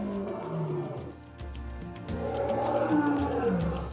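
Asiatic lion roaring in deep, rumbling bursts that swell and fade, loud and fairly close, with no voices over it.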